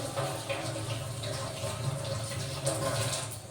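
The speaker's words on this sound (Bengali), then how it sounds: "বোকাটা কেটে আর একবার ধুয়ে নেব একটু ফ্রেশ করে" Raw mangoes are rinsed under running tap water, a continuous close splashing stream that runs steadily throughout without speech.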